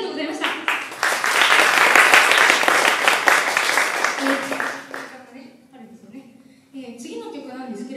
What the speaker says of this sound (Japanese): 皆さん本当に手拍子ありがとうございました。